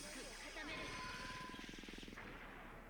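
A helicopter from the Code Geass: Lost Stories video game drones with a rapid rotor chop that swells and then fades, heard faintly under a loud, steady wash of game noise.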